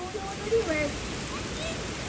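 Rain falls steadily outside as a continuous, even hiss of drops, with a faint voice in the background.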